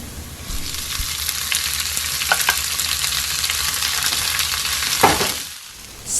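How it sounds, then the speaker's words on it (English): Stir-frying in hot oil for Hainanese chicken rice, with green onions going in, gives a continuous bright sizzle broken by a few sharp scrape and tap sounds, one louder burst near the end. "Stir until the color change a bit, then add green onions."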